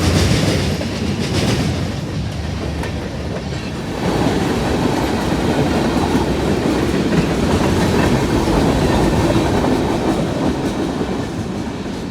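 A freight train hauling BN hopper cars rolls past, a loud continuous rumble and clickety-clack of wheels over rail joints that holds steady as the end of the train goes by.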